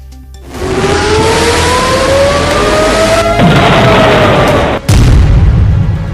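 Loud booms and rumbling roar of explosions during an Iranian missile attack on Tel Aviv, with a rising whine, a sudden cut-off near the end, then another heavy blast burst.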